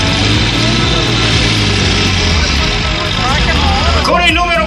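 A tractor roars loudly and continuously during a power pulling competition at Castelminio's Festa Dea Poenta in 2015, its engine note rising slightly toward the end while an announcer talks over it.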